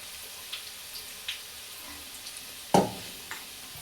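Potato bhaji fry in hot oil with a faint, steady sizzle, broken by a few soft clicks and one sharper clatter of a utensil stirring or touching the pan.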